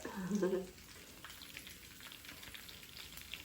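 Cashews sauté in a pan for Pongal, giving a faint, steady crackling sizzle. A brief louder patch comes at the start, then the frying continues softly and evenly.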